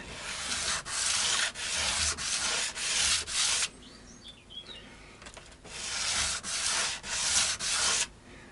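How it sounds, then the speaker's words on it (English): Sanding back a part during the setup of a Vintage V100 Midge Ure electric guitar, with repeated bursts of rough, rasping strokes in a steady rhythm, close and fairly loud, broken by a brief quieter pause. "I've got to sand this back a bit."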